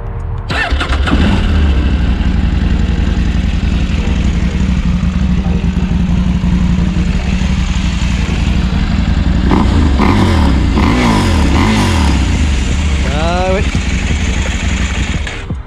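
A KTM 790 Adventure motorcycle engine cranks and fires, then runs loud and steady close by, with a few rising revs toward the end.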